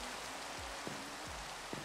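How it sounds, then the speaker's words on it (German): Rain in the video game Minecraft Sky Factory 4, a constant soft hiss with a few low thuds underneath, without any talking. "Aber es regnet"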